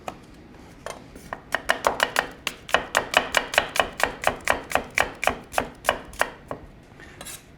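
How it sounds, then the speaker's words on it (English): Knife slicing apples thinly on a cutting board for Indigenous Peoples' Day cooking, a steady run of about twenty crisp, evenly spaced cuts, close and clear with no talking. "So just slice these up, try to go a little thin if you can."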